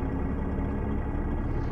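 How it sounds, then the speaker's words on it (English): A Kenworth T680 truck in American Truck Simulator, fitted with a 415-horsepower Packard engine, gives a steady, loud, low engine rumble that holds constant throughout. "The truck's running a Packard engine"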